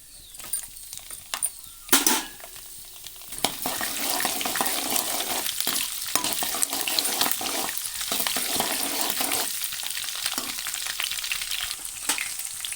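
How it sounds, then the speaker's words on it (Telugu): Green chillies fry in hot oil for mango pulihora, with cashews already in the pan: a loud, continuous crackling sizzle with a sharp burst early on and light stirring noises throughout. "ఇప్పుడు పచ్చిమిర్చి వేస్తున్నాను."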